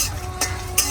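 Dried red chilies frying in hot oil in a home kitchen make a steady sizzle, broken twice by brief scraping stirs of a utensil against the pan.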